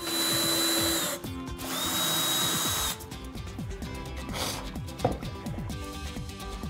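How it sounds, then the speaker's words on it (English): A power drill whines through wood in two steady bursts, followed by quieter clattering and handling noises. "so I need to drill pilot holes first"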